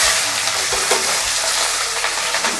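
Steady crackling sizzle of spices and garlic frying in hot oil for a tadka, a constant hissing texture with small pops, close and uninterrupted by talk.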